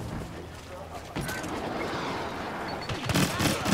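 An anti-aircraft gun firing in Star Wars Battlefront: rough, broadband bursts of rapid shots erupt mid-stretch and again near the end, loud over steady battle noise, with someone talking over parts of it.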